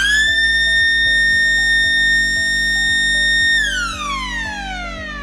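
Fire alarm siren covering outdoor production test bays and a fleet yard, a loud sustained electronic wail holding a steady pitch before winding down and fading, over a constant low mechanical hum.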